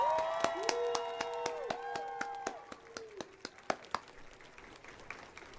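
A few people clap in sparse, distinct claps, with a sustained tonal sound in the first few seconds before the clapping thins out.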